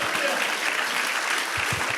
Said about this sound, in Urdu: خداوند کی ستائش میں ہم تالیاں بجائیں گے